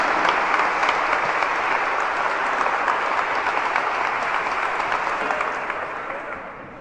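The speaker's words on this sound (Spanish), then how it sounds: "Fuerte ese aplauso para el Señor" Loud, sustained applause from a church congregation, a thick wash of many hands clapping at a steady level that gradually fades toward the end, with no talk over it.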